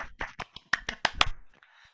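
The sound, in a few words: online meeting participants applauding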